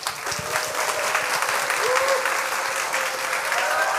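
A live audience welcomes guest authors at a Korean science-and-humanities talk event with loud applause and cheering, a dense steady roar of clapping with rising voices and shouts over it.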